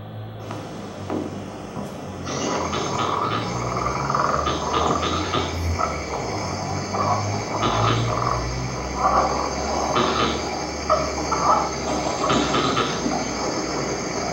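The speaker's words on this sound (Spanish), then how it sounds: "Se conoce como rana ovejera, que es muy similar, ¿no?, al de una oveja balando." Sheep frogs call in a bleating, sheep-like chorus of repeated nasal croaks over a constant outdoor hum, several voices overlapping at a moderate distance.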